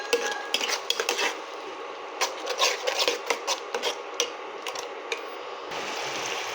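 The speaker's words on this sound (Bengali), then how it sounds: "অল্প করে ঘি দিয়ে এটাকে ভালো করে কষিয়ে নেব আমি" Metal spoon scraping and clattering against a pot as chicken is stirred and fried in ghee, a fast irregular run of sharp clinks and scrapes, close and fairly loud with no voices.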